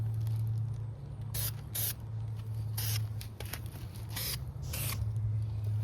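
Aerosol spray paint applied to the corroded door hinges of a Jeep JK outdoors on a breezy day, heard as several short hissing bursts with pauses between, over a steady low wind rumble.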